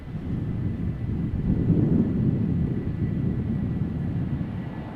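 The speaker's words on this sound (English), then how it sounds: "Airplane taking off from runway 24." A jet airliner takes off from runway 24 at Amsterdam Schiphol Airport in gusty crosswinds, a steady low roar with wind buffeting on the microphone, swelling slightly midway.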